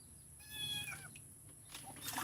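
A house cat meowing upstairs, several drawn-out meows at a distance, fairly faint, with a light trickle of water in the background.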